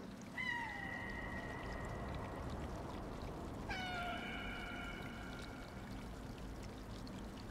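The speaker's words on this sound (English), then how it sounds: "It's meowing." A cat in a video game gives two drawn-out meows several seconds apart over a constant rushing, water-like background hiss.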